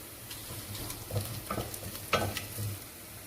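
Chopped onion and dry chili frying in about four tablespoons of oil for rasam, with a steady soft sizzle, occasional stirring scrapes and a few brief louder crackles, close and moderately quiet.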